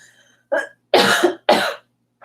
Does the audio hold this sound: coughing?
yes